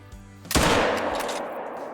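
A single sharp rifle shot from the hunting video game Call of the Wild cracks loudly and close, then rolls off into a fading echo.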